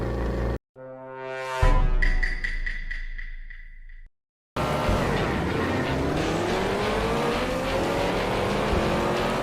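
Racing car engines in a video game race roar loudly, with a rising rev sweep at the start, a brief silent gap, then sustained high-pitched engine whine and pitch-bending cars close by, no talk.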